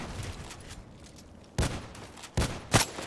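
Gunfire from the online shooter Contract Wars, played with an SVU-AS rifle: a few sharp, loud shots cracking out separately over low background game ambience, with no talking.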